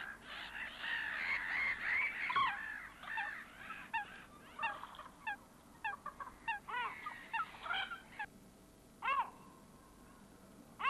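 Gulls give harsh, repeated threat calls, some in quick bursts and others single, at moderate distance against a faint background at a lake.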